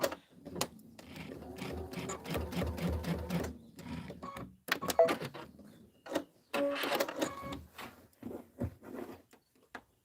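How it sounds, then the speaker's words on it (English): A sewing machine stitches the side of a pillow in close, rapid mechanical bursts, running in spurts with short pauses and a few clicks and handling noises between them. "So now I'm going to just sew the whole side."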